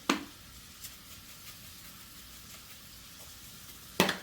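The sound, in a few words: mushrooms sizzling in butter in a pan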